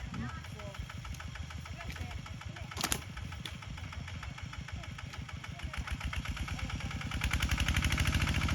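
Tractor engine idling with a steady rapid chug in a dry upland cassava field, a sharp knock partway through, then revving louder and heavier near the end.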